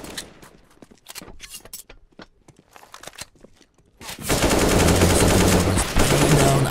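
Gunfire in a CS:GO tournament match: scattered single shots and footsteps give way after about four seconds to a loud, sustained burst of automatic fire.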